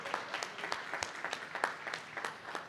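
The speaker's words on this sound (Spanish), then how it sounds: "Un aplauso para todos ustedes" Light, sparse applause from an audience at a book ceremony, individual claps distinct and fairly faint, steady for a few seconds without voices.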